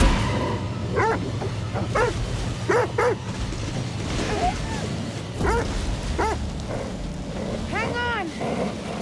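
A dog in The Devil in Me horror video game gives repeated yelping barks and whimpers, short rising-and-falling cries spread across the clip over a low rumbling background, with a voice speaking at times.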